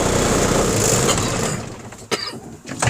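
A semi truck's diesel engine idles steadily in the cab, a loud, constant rumble, then is shut off partway through, leaving a quieter tail with a few faint knocks.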